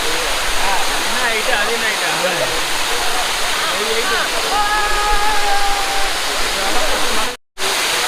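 A steady, loud roar of rushing water from a waterfall in the Kolli Hills fills the whole stretch, broadband and continuous, with faint voices and brief whistle-like tones mixed in before a sudden cut near the end.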